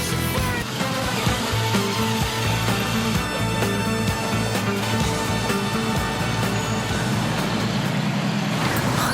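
A car engine runs steadily and loud up close, a dense continuous mechanical drone with no clear pauses.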